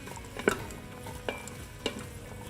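Onions, celery and carrots sauté in an Instant Pot: a soft steady sizzle with three distinct scraping stirs of a utensil against the pot, close and fairly quiet.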